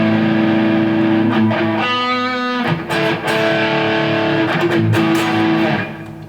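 Sustained 80s-style electric guitar with moderate distortion, chords ringing loud and clear with a crisp edge, some notes sliding and strummed, no voices.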